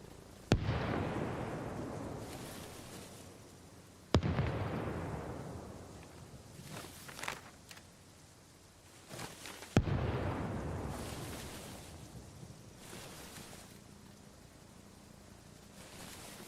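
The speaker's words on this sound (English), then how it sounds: "Why am I hearing random explosions in the middle of nowhere?" Three deep, distant booms in the Arma Reforger video game, each a sudden thud followed by a long rolling rumble that fades out, spaced several seconds apart in otherwise quiet surroundings.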